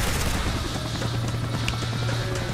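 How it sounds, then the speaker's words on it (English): A helicopter in the zombie arcade game Dead Ops Arcade, a continuous close rotor drone with a low steady hum, heard alone without talk and with faint scattered game effects in the background. "let me take you a spin around my helicopter"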